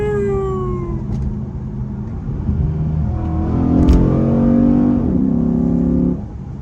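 A Chrysler 300 SRT8 with 77,000 miles accelerates hard, its engine note climbing through the gears in rising sweeps, loud and close from inside the cabin, with a shift and a steady high-speed drone afterward.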